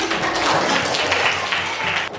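Schoolchildren in a ninth-grade civics classroom clap together in a steady, dense patter of applause that carries on for a couple of seconds at moderate loudness.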